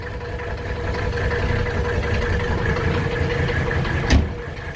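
A classic Mercedes W108 idles with a steady, slightly uneven rumble and a faint rhythmic shake, close by, ending with a short bump.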